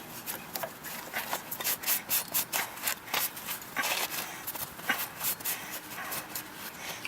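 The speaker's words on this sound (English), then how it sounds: "Wipe off some of the excess wax with a rag or whatever." A sleeve rubs excess wax off a metal heart plant hanger in quick, rhythmic wiping strokes, close and fairly soft, with no talk.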